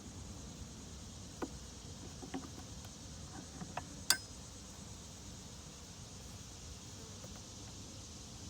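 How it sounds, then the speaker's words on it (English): Quiet, steady buzzing of many honeybees fills the air around an open hive during an inspection, broken by a few faint clicks and taps. "They seem calm for bees that wanted to get out of Dodge last week"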